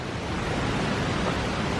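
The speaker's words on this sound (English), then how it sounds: "Some fast moving water right there." Fast-moving water rushes through Clifton Gorge after heavy rain. It is a brief, steady roar of churning water at even loudness with no talk.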